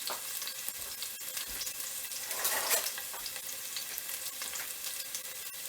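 Onions sizzle and fry steadily in a hot pot for a Jamaican-style brown stew turkey neck, with soft scraping stir strokes and a brief swell of louder crackling midway; no one speaks.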